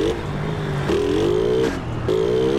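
A carbureted CG 150 motorcycle engine doing a spin, its revs rising and dropping in a few short surges, close and fairly loud with no speech.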